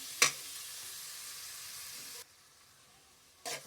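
Paneer fried rice sizzling in a pan, a steady soft hiss with a sharp clatter at the start, then the sizzle drops to a quieter level before another brief burst near the end.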